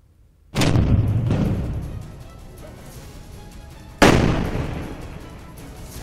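The Sarang artillery gun fires two heavy, booming rounds a few seconds apart, each a loud sudden blast followed by a long rolling decay, with no talk over them.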